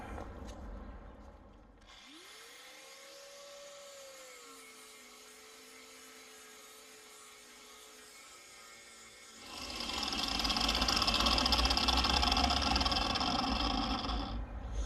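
An angle grinder powered through an inverter on a homemade alternator generator runs with a steady whine, starting around two seconds in and settling into a rising tone. It later gives way to a louder, broader roar that holds to the end.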